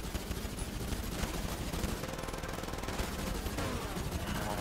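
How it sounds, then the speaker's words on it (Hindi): Gunfire in GTA 5 during a cars-in-snow race, a rapid continuous automatic rattle of shots mixed with a dense noisy background, loud and steady throughout. "गोलियां कौन चला रहा है? ये पीछे से चल रही है भाई"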